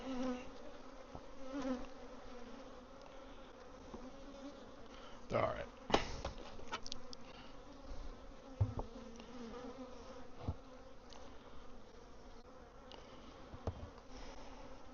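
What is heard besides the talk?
honeybees buzzing during a swarm check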